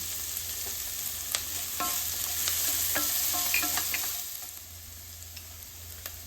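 Turmeric and green chillies fry in a pan with beans as a lemon rice base, a steady sizzle under repeated scraping stirs of a spoon against the pan, close and continuous with no talk.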